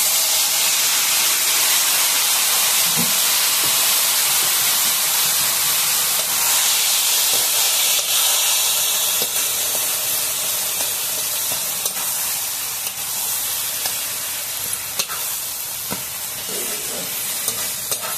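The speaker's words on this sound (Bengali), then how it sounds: "এখন আমি চাল কুমড়োটা ঢেলে দিচ্ছি।" Ash gourd tipped into a hot pan, a loud, steady hissing sizzle with occasional stirring clicks that carries on throughout.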